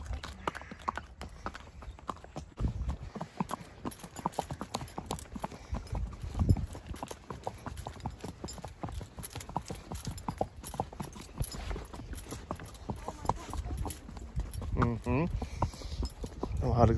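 Horse hooves clip-clop steadily on a valley trail in Nuwara Eliya, Sri Lanka, close and rhythmic, while people talk nearby.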